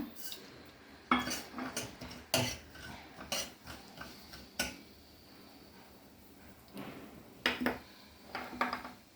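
Mustard seeds and cumin are tempered in a hot pan, with irregular metallic clinks and scrapes of a spoon against cookware, close by and without speech.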